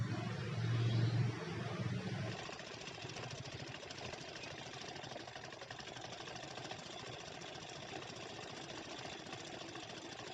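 A sewing machine stitches a blouse, running as a steady fast mechanical rattle up close, slightly louder for the first couple of seconds and then even and continuous, with no voices.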